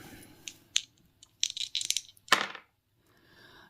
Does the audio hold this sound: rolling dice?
yes